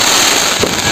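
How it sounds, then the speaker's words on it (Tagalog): New Year fireworks at a 2025 celebration in the Philippines burst in a dense, crackling barrage with a sharp pop near the middle. The sound is loud and continuous, with no talk over it. "doon sa ano yun na may fireworks din, ang ganda"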